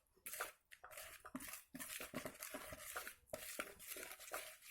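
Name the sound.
stirring coffee bean cookie dough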